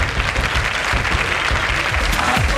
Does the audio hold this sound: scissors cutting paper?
no